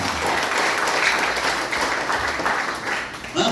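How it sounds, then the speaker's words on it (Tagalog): A church congregation claps loudly during a sermon, dense sustained applause filling the room for several seconds before thinning briefly near the end. "May nakikinig pa, pumalakpak ng malakas sa Panginoon."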